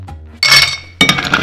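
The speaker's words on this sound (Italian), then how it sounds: "mettiamo del ghiaccio." Ice cubes drop into a highball glass for a Cuba Libre cocktail, two loud bright clinking impacts close by, with ringing glassy rattles and no voices.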